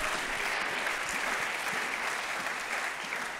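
A church congregation claps in a dense, sustained burst of applause that stays even and fairly near for a few seconds.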